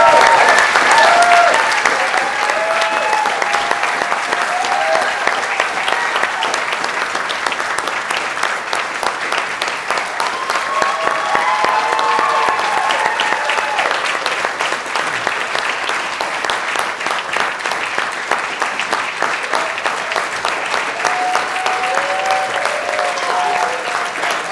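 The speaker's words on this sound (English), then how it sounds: "let's have another round of applause for our graduates" Sustained audience applause for graduates at a Distributed Master of Engineering Management hooding ceremony, loud and steady from a large crowd for about twenty-five seconds.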